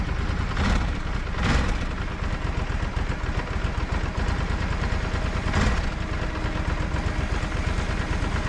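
A motorcycle engine idling just after a cold start, a steady dense chugging rumble up close with a few uneven surges where it stumbles as if near stalling; the bikes in question are a Ducati DesertX and a BMW F 900 GS.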